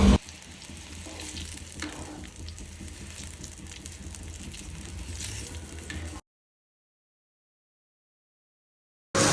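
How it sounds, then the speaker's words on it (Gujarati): Pasta cooks in a pan on a gas stove with a steady, moderate frying sizzle for about six seconds, then cuts to silence before a brief burst of sound. "એટલા આપણા પાસ્તા છે ને નાખી દીધા છે હવે એના ઘડીક ગરમ થવા દેવી"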